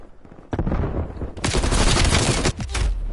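Loud, close bursts of automatic gunfire in the video game Call of Duty, a Prop Hunt match, rattling almost continuously with a short gap before the shooting resumes.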